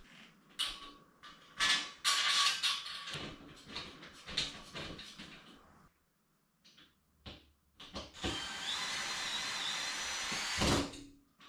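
A power drill pre-drills holes into a metal drywall rail, running in several whirring bursts with short pauses and handling knocks between them, then one long sustained run near the end, close and loud.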